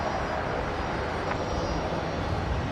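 An airplane coming in to land on runway 19 left at Brisbane airport gives off a steady, broad engine rumble, loud and unbroken throughout.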